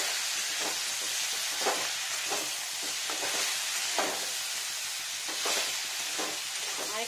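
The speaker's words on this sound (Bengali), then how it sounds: "একটু ফ্রাই হবে লবণ দেওয়াই" Vegetables for niramish shukto, including bitter gourd, raw banana, potato and borboti beans, fry with salt in a pan, giving a steady close sizzle broken by repeated scraping stirs.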